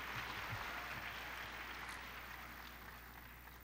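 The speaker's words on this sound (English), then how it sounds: "Give them another round of applause." An audience at an evening showcase of student performers applauds in a steady, dense wash of clapping that holds at an even level and then fades slightly toward the end, with no voices over it.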